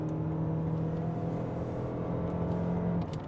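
A 2023 Toyota Venza accelerates with a steady engine hum and whir, heard from inside at moderate level and holding evenly for a few seconds.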